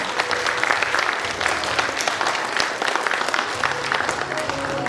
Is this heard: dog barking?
no